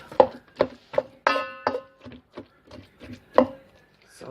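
A kitchen knife chops bell peppers and onions on a cutting board for meatloaf, giving about a dozen close, uneven thunks in quick succession, some sharp and some softer.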